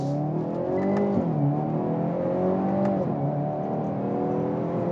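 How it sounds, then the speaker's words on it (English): Hyundai Veloster N engine revs and shifts continuously with a rising and falling drone, a couple of brief sharp cracks from the exhaust near one and three seconds, heard from inside the car with no talk. "You hear the pops and bangs from that exhaust"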